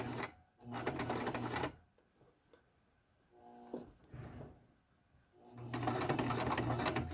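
Sewing machine stitching wig material, running in two sustained bursts at the start and end with a quieter stop-and-start stretch in between, loud and close.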